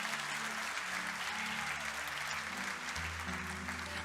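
A church congregation applauds, a dense sustained wash of many hands clapping steadily throughout, with a faint low musical tone beneath and no clear speech.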